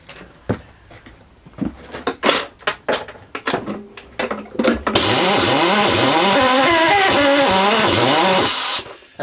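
A Homelite V35 lawnmower engine, primed with starting spray, gives several clattering pulls and knocks before catching and roaring steadily at close range for about four seconds, then cutting out.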